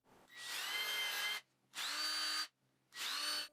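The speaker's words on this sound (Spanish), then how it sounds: "hago algunos agujeros para los tornillos de" A power drill bores screw holes in wood for a table saw jig in three separate bursts, each a loud whining spin of about one second with short quiet gaps between.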